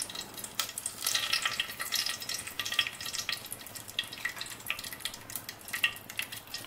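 Bay leaves and whole garam masala sizzling in hot oil for chicken polao, a soft crackling fry with bursts of spitting and a few stirring sounds, steady and close.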